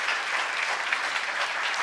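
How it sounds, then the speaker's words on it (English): Audience applause for presenters at a 2019 STEM research symposium, a dense, even wash of many hands clapping, steady and moderately soft, heard alone without talk. "Please, a big round of applause for our presenters."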